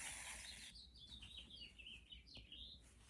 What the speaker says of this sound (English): I don't know if you guys can hear the birds outside when I can hear them.